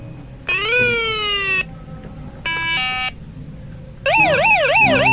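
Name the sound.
toy police car siren sound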